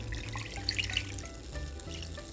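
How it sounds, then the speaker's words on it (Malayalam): Water splashes and trickles into a pot of chopped chicken in a short, close, fairly quiet burst, with a few bright drip-like plinks. "ഇനി നമുക്കൊരല്പം വെള്ളവും ചേർത്ത് കൊടുക്കാം"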